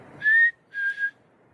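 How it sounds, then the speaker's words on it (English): A person whistles outdoors in the mountains at night, two clear high notes: a steady first one and a slightly wavering second, with quiet surroundings. "We're out in the mountains at night, and we just whistled."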